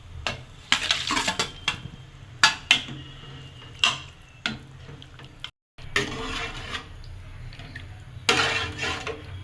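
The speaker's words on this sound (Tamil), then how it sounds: "இனி மீன் சேர்த்துக்கலாம்." Small anchovy fish are dropped and stirred into a simmering Tamil fish gravy in a pot, with repeated close clatters of spoon against metal, wet splashing and a steady bubbling hiss beneath, no talking.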